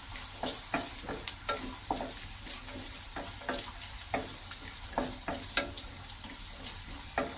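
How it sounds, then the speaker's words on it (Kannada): Green chillies fry in a pan of oil for poha, a steady sizzling hiss broken by frequent sharp scraping stirs of a spoon against the pan, close and clear without talk. "ಈಗ ಇದಕ್ಕೆ ಹಸಿಮೆಣಸಿನ್ಕಾಯಿನ ಆ್ಯಡ್ ಮಾಡ್ತಾ ಇದ್ದೀನಿ ಈಗ ಇದನ್ನು ಫ್ರೈ ಮಾಡ್ಕೊಳ್ಳೋಣ"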